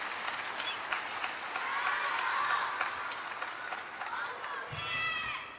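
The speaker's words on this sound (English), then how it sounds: "You can hear the crowd still shouting his name" Table tennis crowd at the world championship finals in Doha shouts a player's name and cheers, a faint, distant roar of many voices with scattered claps, swelling and fading over a few seconds.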